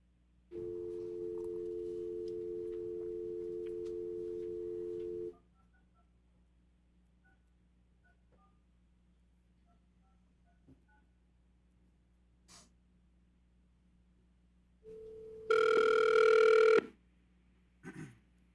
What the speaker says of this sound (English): Give me 1 second while I get the phone call on the line.